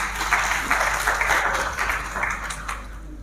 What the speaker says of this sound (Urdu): میں دعوت دیتی ہوں آپ کی بھرپور تالیوں میں